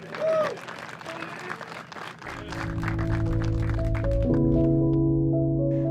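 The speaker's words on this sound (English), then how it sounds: "Applause going for Linus Carlsson." Spectators at a state disc golf championship in Texas clap for a player, brief scattered applause at moderate distance early on, later giving way to a steady droning tone with people talking.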